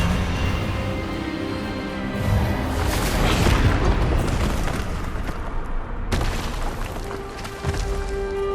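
A spell effect from the Hogwarts Legacy video game, a deep booming magical blast that swells to a loud crackling burst and then sustains with layered rumble and an abrupt second impact, with dramatic music underneath.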